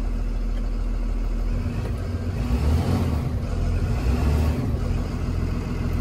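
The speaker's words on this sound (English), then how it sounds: "It's still very quiet though for a diesel" A 2021 Thomas EFX diesel school bus engine runs with heavy sound deadening, a low, steady, fairly quiet rumble close by with a slight swell in the middle as it idles.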